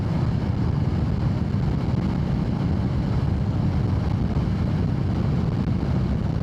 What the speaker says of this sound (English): I'm accelerating uphill from 30 to 40